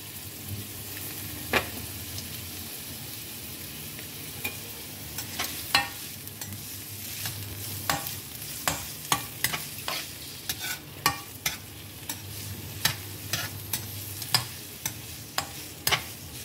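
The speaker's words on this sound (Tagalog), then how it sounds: "Una po yung onion, igigisa po natin." Onion sautés in a pan for a chicken adobo, a soft steady sizzle broken by frequent sharp scrapes and clinks of a utensil stirring, close and moderately quiet.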